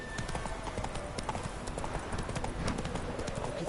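In The Witcher 3, the horse Roach gallops in a fast, steady, close clip-clop of hooves that runs without a break throughout.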